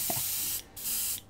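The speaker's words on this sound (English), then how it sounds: "This will spray true." Spray paint can hissing onto a miniature model, a Lizardmen Carnasaur, in two close, loud bursts separated by a short pause.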